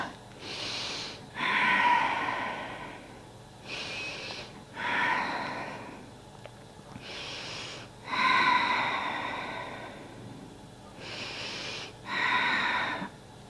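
Deep, slow breaths during a yoga chest-opener pose with interlaced fingers: five or six long inhale-exhale cycles, airy and fairly close, each rising and falling in a steady rhythm with quiet pauses between.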